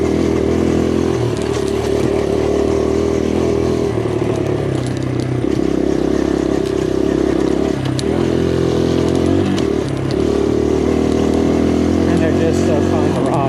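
A 2023 Kawasaki KLX140RF dirt bike is ridden flat out on trails, its engine a loud, close, continuous drone that shifts in pitch as the throttle changes, with some rattling.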